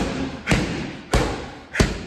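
Three heavy, evenly spaced punches thud into a punching bag during a cardio workout, each a deep close impact over a steady background hiss.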